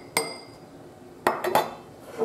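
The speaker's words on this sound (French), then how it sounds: "Je mets tout le contenu dans le verre maintenant." A honey home remedy mixture is tipped into a drinking glass: one sharp clink, then a pause and three quick clinks of utensil against glass in a quiet room.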